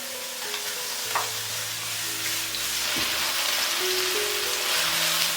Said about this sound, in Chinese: 再重新起锅热油，把我们的蒜末跟青红椒放进来炒香